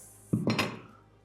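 Plastic and metal parts of a Robot Coupe CL50 dicing grid clattering together in a kitchen, three quick knocks in close succession, close and crisp, then fading.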